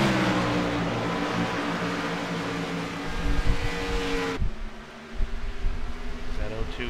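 Vintage Grand National stock cars race around a track, a loud blend of engines droning past that cuts off abruptly and gives way to fainter distant engines, with a commentator talking over it.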